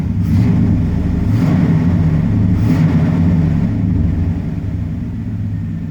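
A 1990 Chevrolet K1500 pickup with a 5.7L V8 and throttle-body injection runs with a deep, steady low rumble, close and loud, holding an even note throughout.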